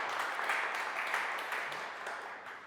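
A studio audience claps to welcome a guest onto a Tamil television show. The applause is a steady, dense wash of many hands that continues throughout and gradually thins toward the end.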